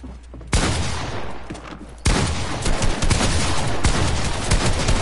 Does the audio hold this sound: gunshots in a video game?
yes